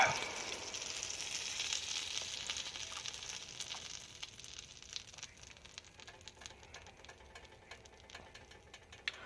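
Pancake batter sizzles steadily in a hot frying pan, a dense hiss that starts loudest and slowly eases, with faint ticks and pops scattered through it and no talk.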